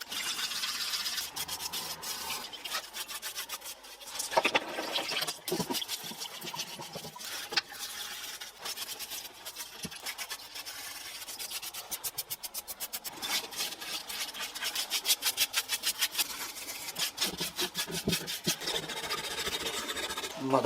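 Mazda RX-7 FD3S rotary engine parts are scrubbed by hand, with quiet, rapid brushing and rubbing strokes in uneven bursts, close by and without talk.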